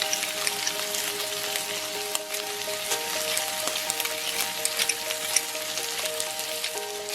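Shrimp and pork belly frying in a skillet with garlic and shallots, a steady close crackling sizzle with scattered pops and faint stirring throughout, no talking.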